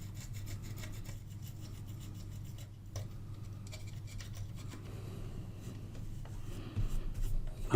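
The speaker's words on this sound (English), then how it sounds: "So I'm going to use a dental pick here to get into these little ones." A small metal dental pick scrapes and rubs at the tiny pins of a valve socket in an old Stromberg Carlson radiogram, making faint, close scratchy strokes over a steady low hum, with no talking.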